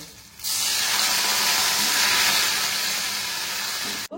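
Water poured into a hot pan of frying curry leaves with sugar and salt, bursting into a loud, steady sizzling hiss that holds for several seconds before cutting off sharply.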